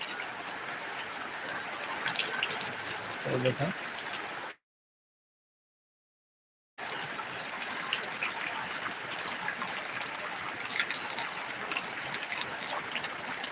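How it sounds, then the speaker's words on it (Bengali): Heavy rain pouring across flooded ground near the sea during a cyclone in Bhandaria upazila, a steady wash of rainfall noise broken by a sudden couple of seconds of total silence before resuming. "প্রচুর বৃষ্টি শুরু হয়েছে"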